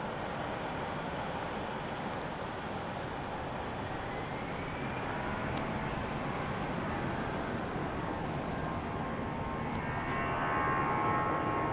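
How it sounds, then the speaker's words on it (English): A KC-135 military tanker aircraft lands on runway 35 at Salt Lake City Airport. Its steady, broad jet roar stays fairly distant and continuous and swells slightly toward the end. "Just in time for the KC-135 landing on runway 35."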